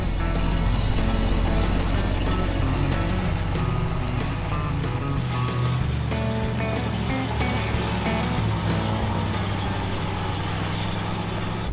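A Ford F150 pickup backs up on a mountain road, its engine rumbling low and steady with broadband road noise throughout and no voices.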